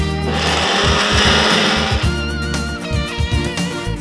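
A kitchen blender whirs loudly as it mixes a healthy soup of mustard and milk, a steady close motor roar with slight shifts in pitch as the contents churn, no voices over it.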